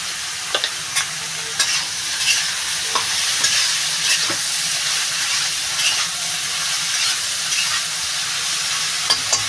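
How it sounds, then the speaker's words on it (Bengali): Bottle gourd pieces sizzle as they are stir-fried with salt and turmeric for a Bengali soybean curry, a steady frying hiss broken by occasional scrapes and taps of a spatula in the pan. "লাউটা একটু কষাবো"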